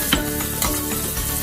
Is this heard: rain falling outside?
no